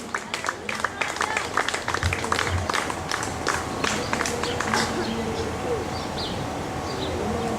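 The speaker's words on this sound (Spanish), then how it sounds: "Dale un aplauso a Jesucristo" A church congregation applauding Jesus Christ, scattered claps building into sustained crowd applause mixed with voices and murmuring.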